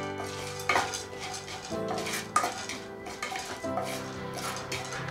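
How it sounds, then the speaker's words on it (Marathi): Split chickpeas (dalia) dry-roasting in a pan on low flame, stirred with a utensil that scrapes and clinks against the metal in uneven strokes, close by, with no talking. "हे डाळे पण छान असे भाजून घ्यायचे"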